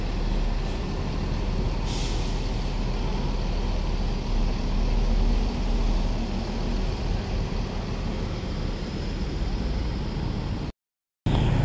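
A Haryanto bus with air brakes pulls out of Kembang Joyopati bus terminal, heard as a steady broad rumble and hiss of engine and traffic noise, with a brief air-brake release burst near the start.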